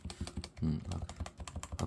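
Keys on a Topre Type Heaven keyboard with worn-off lubrication are pressed in a quick, irregular run of close, moderately loud clacks, with a larger stabilizer-free key such as the space bar among them.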